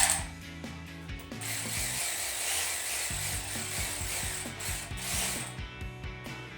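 Ratchet with a 10 mm 1/4 inch socket tightening the screws of a Putco Luminix LED grille emblem on a 2017-2022 Ford F-250, rapid close clicking pawl in quick bursts with brief pauses, no talking.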